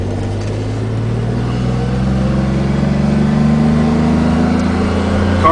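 Interior of a DeLorean car accelerating, steady engine drone rising smoothly in pitch as it gains speed, loud and continuous with no talk.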